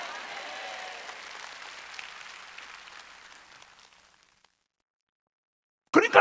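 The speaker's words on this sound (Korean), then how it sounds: "박수야." A congregation at a Wednesday church service applauds softly; the clapping fades away over about four seconds into silence, and a brief loud burst cuts in at the very end.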